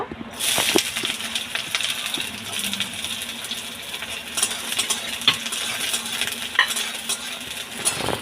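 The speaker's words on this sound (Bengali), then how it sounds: "এবার এই পেঁয়াজটা এই তেলের মধ্যে দিয়ে দেব।" Chopped onion hits hot oil in a pan and sizzles steadily, with a bright hiss, scattered spatter crackles and occasional stirring clinks against the pan throughout.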